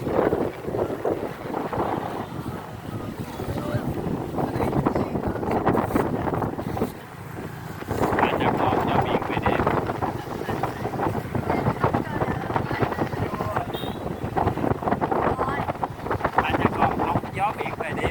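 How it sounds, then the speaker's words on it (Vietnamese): Night sea wind buffets the microphone in loud, gusting roars along the coast, rising and easing in waves with a brief lull midway, while voices are heard talking over it. "Gió biển về đêm mọi người ơi,"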